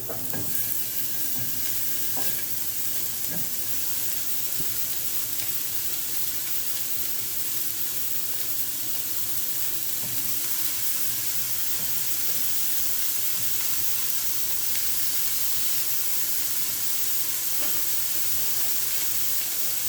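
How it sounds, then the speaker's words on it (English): Two pounds of stew meat browns in a pan over medium-high heat, a steady close sizzle and hiss with occasional stirring scrapes, continuous for twenty seconds without talk. "We're going to brown our stewed meat."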